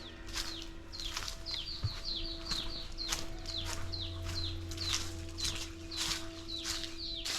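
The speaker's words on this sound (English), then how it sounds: "You can hear the birds." Small birds singing repeatedly in an abandoned village, bright chirping phrases spaced in a steady rhythm, fairly near, over a faint constant hum and low background noise.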